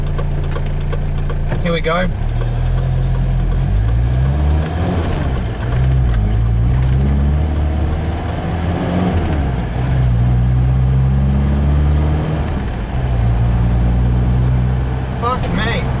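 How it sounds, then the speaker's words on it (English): A Mazda MX-5 NC sports car's engine runs steadily and loudly through a night drive, its low drone rising and falling with shifts in revs while someone talks over it throughout. "The NC is running really actually good."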